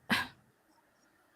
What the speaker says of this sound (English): I'm gonna pause myself so I can sneeze.